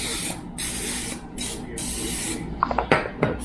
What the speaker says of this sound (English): Let's get some cooking spray